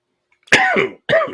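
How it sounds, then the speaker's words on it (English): Two harsh coughs close to the mic, the first longer and rougher, the second shorter, separated by a brief pause. "Sorry about the coughing."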